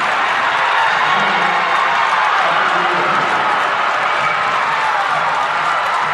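Crowd at a women's college basketball semifinal in the Waco Center roars with cheers and applause after a go-ahead layup, a dense, sustained wash of noise throughout.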